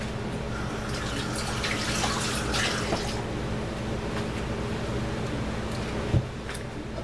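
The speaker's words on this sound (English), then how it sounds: "the first thing I'm going to do is wash my hands" Water runs steadily from a kitchen tap as hands are washed beneath it, a constant splashing rush with a single brief knock near the end.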